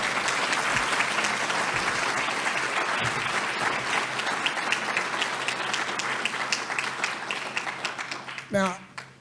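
Sustained audience clapping at a college food security summit fills the room, gradually thinning toward the end, where a brief voice cuts in.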